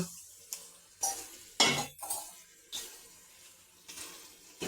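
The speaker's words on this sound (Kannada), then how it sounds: "ಇವಾಗ ನೀರು ಹಾಕೋತಾ ಇದ್ದೀನಿ ನೋಡ್ರಿ" Water is poured onto rice in several separate splashing bursts, roughly one every second, close by, with quiet gaps and faint clinks between.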